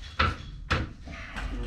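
A drawer in a workshop slides open or shut, giving two sharp close knocks followed by a softer third one, with no talk.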